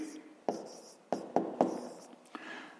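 A pen writes a fraction on paper in a quiet room, giving a few sharp taps and short scratchy strokes spaced unevenly, close and soft, with no talk.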